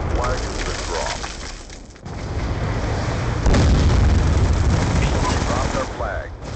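Explosives going off in a Black Ops II capture-the-flag match, heavy booms and rattling gunfire layered through most of the stretch, with a louder blast surge midway and an announcer's voice speaking over the din.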